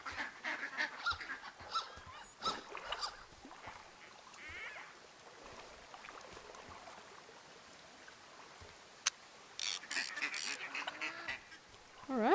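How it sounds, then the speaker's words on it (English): Ducks and geese honk and quack in the video game Firewatch, a scattered run of calls at moderate distance over an outdoor ambience, busiest at the start and again near the end. "Duck. Ducks and geese and..."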